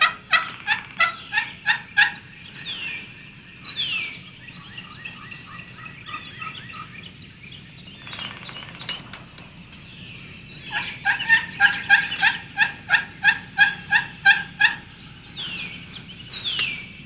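Wild turkey gobblers in spring woods gobbling repeatedly, rapid rattling bursts fairly close, with a pause and then a louder run of gobbles.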